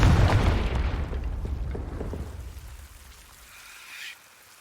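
The Confringo fire spell explodes in a Harry Potter video game with a loud, close boom that dies away in a crackling tail over a few seconds, followed by a faint high shimmer.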